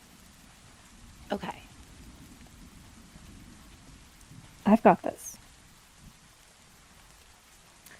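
Rain falls steadily in the background as a soft constant hiss beneath two brief bursts of speech.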